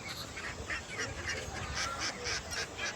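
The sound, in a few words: ducks on a farm at feeding time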